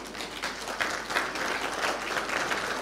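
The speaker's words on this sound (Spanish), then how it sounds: "Yo sé que no están aplaudiendo por mi voz." Applause from a church congregation during a sermon by a guest pastor, a steady mass of clapping that holds evenly at moderate level for about three seconds with no one speaking over it.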